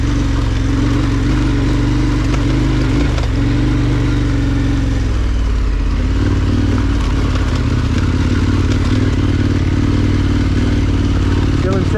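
A KTM 1290R adventure motorcycle climbs Duck Creek dirt road, its engine loud and close with a steady droning rumble that drops in pitch midway as the load changes, gravel clatter mixed in.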